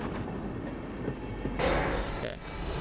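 In the Half-Life mod Delta Particles, a train engine rolls along with a steady rumbling rattle, swelling louder partway through, with a brief bright squeal and no speech.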